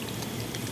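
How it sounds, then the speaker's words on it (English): Water effect in the game Life is Strange 2, a brief bubbling, splashing hiss of liquid lasting under a second, fairly faint and alone. "The fire and the water effects in this game are kind of strange"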